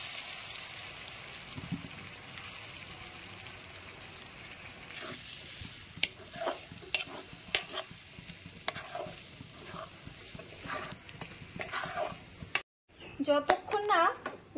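A bottle gourd mixture hisses and sizzles in hot oil while a utensil scrapes and clacks against the pan in irregular strokes, with a short speaking voice at the end.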